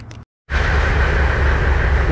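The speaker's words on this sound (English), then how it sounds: "Both trucks running, it's loud as hell in here" Two trucks idling inside an enclosed garage, one with an LS engine swap, making a loud, dense, steady engine drone that cuts in after a brief silence and fills the space.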